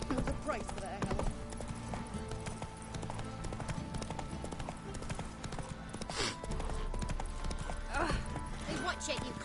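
Steady clip-clop of the horse Roach's hooves in the video game The Witcher 3, a continuous trotting rhythm under game music and talk.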